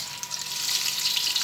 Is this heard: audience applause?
no